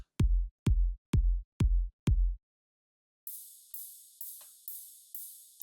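Five deep, punchy kick drum hits in an even rhythm, followed by a series of bright hissing cymbal-like bursts.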